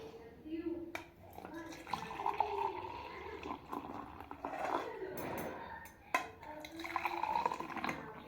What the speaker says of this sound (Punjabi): ਮੈਂ ਚਾਹ ਪਾ ਲਾਂ ਗਲਾਸਾਂ ਦੇ ਵਿੱਚ